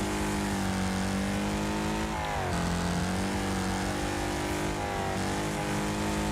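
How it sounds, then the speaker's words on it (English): A car engine in a racing video game drones steadily while driving on dirt, loud and close, with the revs dipping and climbing through gear shifts over continuous road rumble. "This is not the greatest handling car on dirt."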